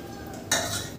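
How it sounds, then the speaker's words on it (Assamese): A spoon stirs a simmering homemade jelly mixture in a pot, giving one brief, close metallic scrape and clink against the pot after a quiet moment. "আৰু এতিয়া মই এইখিনি লাৰি থাকিম"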